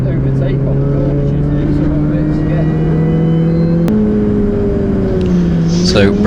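A Mini Cooper S R53 droning steadily on a race track, engine note climbing then dipping after a gear change, heard loud from inside the car while the driver talks.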